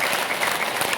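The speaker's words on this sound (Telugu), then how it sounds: "ఇక్కడ కొట్టండి, ఇట్లా కొట్టండి. గట్టిగా" An indoor audience claps hands together in dense, steady applause at a motivational meeting, loud and continuous with no talk.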